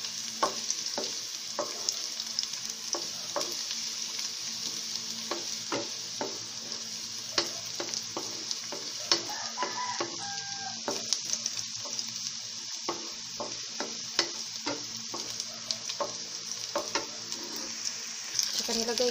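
Garlic and onion sauté in a stainless pan for kangkong, a steady bright sizzle running throughout with repeated scraping stirs of a utensil, close and fairly loud.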